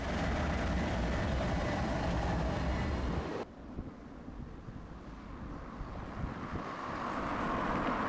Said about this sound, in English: And here comes the engines.